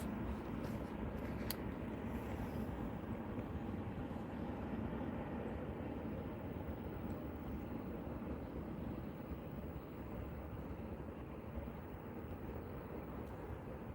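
A jet airplane at Manchester Airport produces a continuous broad, low roar that stays steady and fairly loud throughout, with no speech over it.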